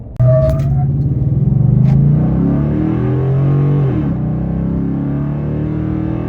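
Gen 1 Ford Raptor pickup fitted with a K&N cold air intake launches hard, its loud, deep engine rumble rising in pitch as it revs up through the gears, close and steady with no talking.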